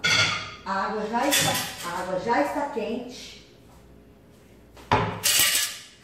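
Glass jars for peach compote are set into a pot of hot water, giving a sharp clink or two amid nearby talking.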